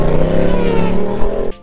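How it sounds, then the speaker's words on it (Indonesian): Yamaha MT-07 crossplane-style parallel-twin motorcycle engine revs loudly and close up in a short burst, a throbbing uneven exhaust note that holds steady then cuts off abruptly. "coba dengerin sound dari MT-07 versi firing ini bro"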